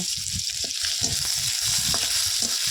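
Sliced onions are stirred and fried in a wok with oil and panch phoron, a steady hiss of sizzling broken by a rhythm of spatula scrapes and knocks against the pan.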